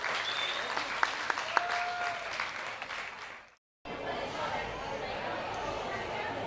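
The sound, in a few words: audience applause for prize winner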